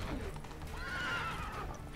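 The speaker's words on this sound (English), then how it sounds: "Is this horse called Roach?" A horse in The Witcher 3 gives one loud, close whinny that rises and falls in the middle of the clip, over a dense game backdrop with faint hoof clatter.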